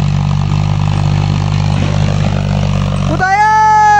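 A tractor hauling sand at Yulung Pokhari runs with a steady, loud, low engine drone, which cuts off near the end and gives way to a brief tonal warble.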